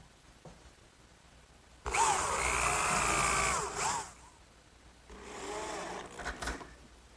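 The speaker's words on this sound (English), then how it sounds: "I'll fasten the back the same way I did with that first side. Just a few screws aligning it with my layout marks." A power driver runs two bursts of screws into the back panel of a wooden corner cupboard, a loud whirring drive of about two seconds followed by a shorter one.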